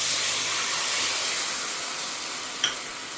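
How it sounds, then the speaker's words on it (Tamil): Tamarind water for rasam boils on a high flame, giving a steady close hiss and bubbling that continues evenly throughout, with a small clink near the end and no speech. "புளி ஜலம் நல்லா கொதிக்கட்டும்."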